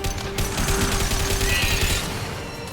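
Rapid automatic gunfire from Mass Effect 2 on Insanity difficulty fires as a loud, continuous close burst of shots that runs for about two seconds before trailing off.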